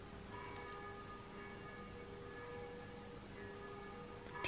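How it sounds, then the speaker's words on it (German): A chiming clock rings the hour, its tones sounding as steady sustained horizontal bands that carry on across the clip at a moderate distance, with a louder bump right at the end. "Diese Kirschenuhr, hört ihr die gerade?"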